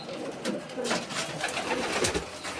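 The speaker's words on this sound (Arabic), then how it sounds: "بص عند الحمام" Pigeons in a bird loft give soft, repeated coos amid a busy mix of wing rustles and flutters, fairly close and steady throughout, with no talking.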